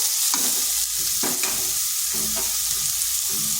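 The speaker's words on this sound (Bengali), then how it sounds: "এই অবশিষ্ট তেলের মধ্যে আমি দিয়ে দিচ্ছি সয়াবিনগুলো" Soaked, washed soybean chunks fry in leftover oil in a pan, giving a steady close sizzle broken by a few scraping stir strokes, with no talking.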